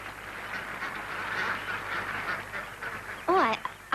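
A goose or duck lets out a short, loud honking call near the end, over a steady outdoor murmur with faint voices beside a pond where ducks are being fed.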